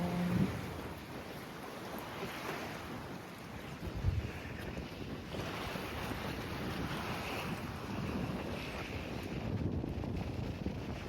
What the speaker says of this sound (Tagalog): mahangin talaga, malakas talaga kasi yung hangin